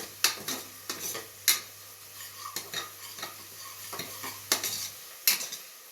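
Chicken and masala for biryani sizzle in a pan while a spoon scrapes and knocks against it in a rhythm of sharp stirring strokes, with no talking.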